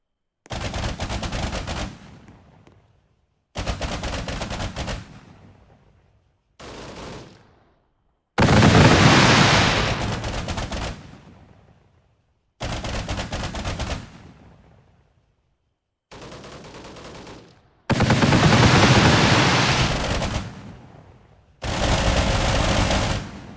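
Firework bursts from a show launched in the Roblox game Fireworks Playground, arriving as eight loud, separate volleys of crackling, popping explosions with short silent gaps between them, some sustained and dense, no voices over them.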